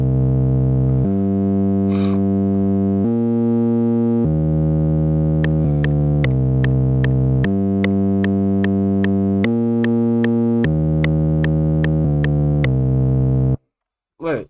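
A loud, buzzy synth lead pushed through overdrive and distortion plays a stepped melody of held notes in a hip-hop production, bright and saturated, with short percussive hits joining partway through before it cuts off.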